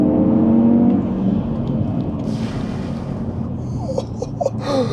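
An Audi TT RS Iconic Edition accelerates hard with its exhaust valves open, a loud close engine roar with rising tones at first, then a rushing, fluttering drone as speed builds, with no talking.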